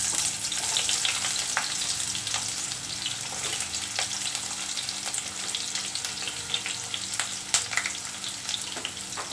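Curry leaves and onion frying in olive oil in a pan, giving a steady, dense close sizzle that runs throughout with faint crackles and stirring noises, and no talk.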